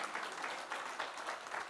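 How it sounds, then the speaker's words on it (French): A church congregation at a Sunday service applauds, a brief, moderately faint patter of many clapping hands. "On applaudit."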